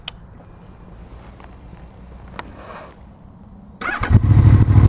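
Quiet background with a few small clicks and knocks, then a Honda VFR 800 motorcycle with an Akrapovic exhaust fires up and settles into a loud, deep, rumbling idle close by.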